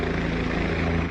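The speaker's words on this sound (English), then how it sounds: "a helicopter swooped in" Helicopter swooping low over a rural pond to draw water for firefighting, a close rapid rotor thumping with steady engine drone, brief and loud.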